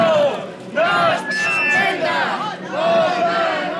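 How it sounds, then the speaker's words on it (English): A large street crowd protesting against tourism and new hotels in a working-class neighborhood, out in heavy rain, chanting and shouting together in rising and falling waves of massed voices, loud and close. "a big crowd has come out to protest despite the heavy rain because they don't want more hotels"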